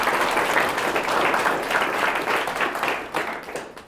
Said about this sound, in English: Can we clap for those who go to the university?